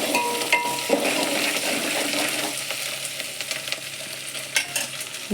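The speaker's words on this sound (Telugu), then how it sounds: "పచ్చివాసన పోయేంత వరకు మనం నూనెలో వేయించుకోవాలి." Ginger garlic paste frying in hot oil for a Telangana mango and egg curry, a steady close sizzle with scattered scraping stir clicks throughout and no voices.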